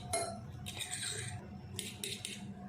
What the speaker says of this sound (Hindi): अंडे भी साथ ही फेंट लेते हैं, और ये सारे मसाले इसमें अच्छे से मिक्स हो जाएं